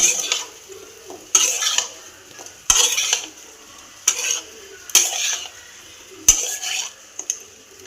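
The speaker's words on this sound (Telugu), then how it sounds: "ఈ చేపలన్నిటికీ ఉప్పు కారం అన్ని మసాలా పట్టినట్టు చేయాలి" Fish pieces tossed with salt, chili powder and masala in a bowl give off repeated scraping, clinking stirs in short bursts about every second or so, close and fairly loud, with no talking.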